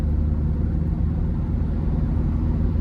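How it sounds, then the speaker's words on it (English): A 2000 Nissan Frontier XE Access Cab pickup with its naturally aspirated 2.4-liter four-cylinder engine drives along, giving a steady, loud low engine drone and road rumble from inside the cab. "starting the test drive in this Nissan Frontier"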